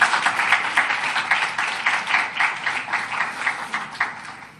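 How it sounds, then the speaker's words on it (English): Audience applause at a human values education talk, a dense, steady patter of many hands clapping together with faint rhythmic pulses, sustained evenly and heard alone without talk. "Give yourselves a round of applause."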